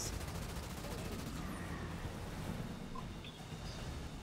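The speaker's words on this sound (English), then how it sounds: "I'm receiving fire from ground troops." Sustained gunfire from ground troops in the Halo Wars 2 video game, a dense continuous battle rattle of rapid shots and low rumble that keeps a steady level throughout.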